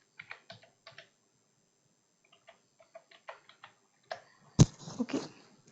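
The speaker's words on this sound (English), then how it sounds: "When you open this, it will be asking for the password. So we have to enter the password." Password typed on a computer keyboard: short scattered bursts of close, light key clicks with pauses between, ending in a louder key strike and a few final taps.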